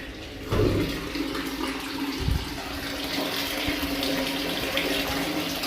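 Municipal tap water, arriving only after eight days, gushes steadily from a household tap, a continuous rushing splash with a soft thump near the start and no talking.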